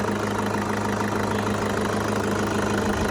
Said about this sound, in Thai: เครื่องยนต์ดีเซลคอมเร็วนะคะ